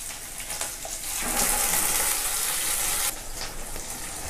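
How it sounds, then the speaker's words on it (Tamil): Water rushes and splashes steadily for a few seconds, louder in the middle, as a grinder jar is rinsed out while cooking Tamil crab curry. "ஜார் அலசி தண்ணி விடுறேன்."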